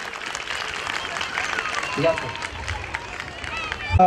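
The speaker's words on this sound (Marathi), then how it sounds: "जोरदार टाळ्या वाजवायच्या सरांसाठी." At a school annual function, the crowd breaks into applause, a dense patter of clapping heard under loud voices and general hubbub in a busy hall.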